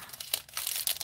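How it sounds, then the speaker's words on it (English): Scissors cutting open a planner-supply package, crisp crinkling and snipping of plastic packaging in quick irregular bursts, close and fairly quiet with no voices. "Let's get the scissors and cut this open."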